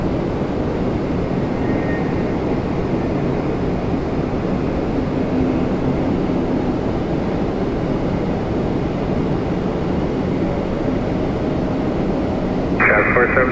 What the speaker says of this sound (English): 321 Neo coming in from Reykjavik